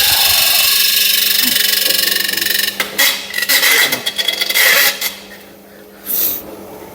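A semi-broken pump pushing beer through a Speidel Braumeister 200L brewing system rattles and knocks against plastic, a loud steady scraping hiss broken by irregular clattering bursts and brief lulls.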